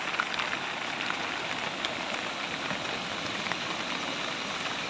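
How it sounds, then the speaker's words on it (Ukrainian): A heavy rain downpour on a vegetable garden during a summer storm, heard as a dense, steady hiss of drops pelting surfaces, close and continuous with no voices. "Ці кадри Роман Баран відзняв у себе на городі під час зливи 11 червня."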